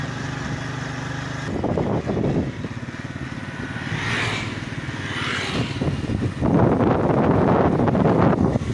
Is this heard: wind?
yes